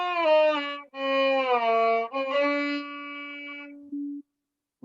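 Melody in the Arabic maqam Hijaz Kar, a single sustained voice-like instrument moving through a few held notes with gliding pitch changes, ending on a long steady tone before fading out.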